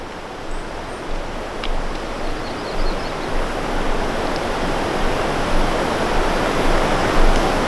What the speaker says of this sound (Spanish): escuchar el sonido de la naturaleza, como el río, por ejemplo, que está acá al costado del camino